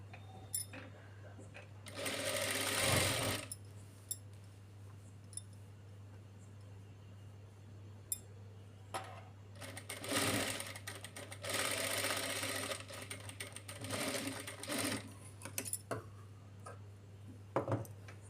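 A sewing machine stitches the shoulder seams of a lehenga bodice in several rattling bursts of a few seconds each, separated by quieter pauses where a person speaks, with a steady low hum throughout.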